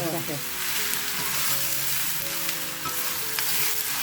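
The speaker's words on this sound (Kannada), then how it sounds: "ಇದನ್ನ ಹೈ ಫ್ಲೇಮಲ್ಲಿ ಒಂದು ಎರಡು ನಿಮಿಷ ಈ ಥರನೂ ಕೈ ಆಡಿಸ್ತಾ ಇರಬೇಕು" Brinjal curry cooked without water sizzles loudly in a pan over a high flame while it is stirred, giving a continuous, close frying crackle with occasional scraping.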